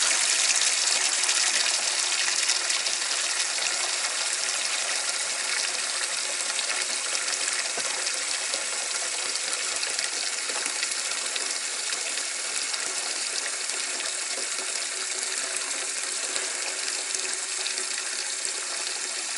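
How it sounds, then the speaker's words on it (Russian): Water gushes steadily from a tap, a constant full-bodied hiss with no pauses, close and loud throughout. "Набрать 2 клавиатуры воды."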